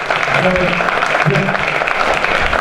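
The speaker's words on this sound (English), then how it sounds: "So let's give a round of applause." Audience applause at a community event on returned citizens, a steady dense wash of clapping with a few voices mixed in, fairly loud and close throughout.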